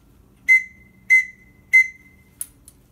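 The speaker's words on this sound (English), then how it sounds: "the international distress sign is three blasts on a whistle" Three short, sharp whistle blasts evenly spaced about half a second apart, followed by a faint brief chirp, over a quiet background.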